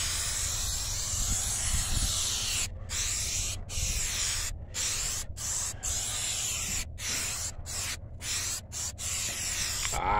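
Crystal Untouchable tire shine sprayed onto the tires of a Honda Accord, a long run of close, steady hissing spray broken by several brief pauses.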